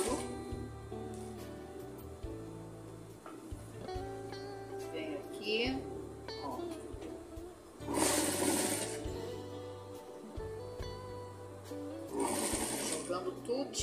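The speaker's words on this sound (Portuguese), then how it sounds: "Vou ajeitando e vou costurando." A sewing machine stitches fabric strips for a rag rug in steady, close runs that stop and start, with someone speaking between the bursts of stitching.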